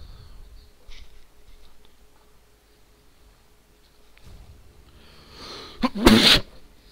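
A single sharp sneeze bursts out near the end of the recording, loud and close, after several seconds of quiet room tone with faint game sounds.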